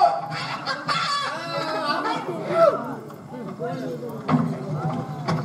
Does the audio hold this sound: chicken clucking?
yes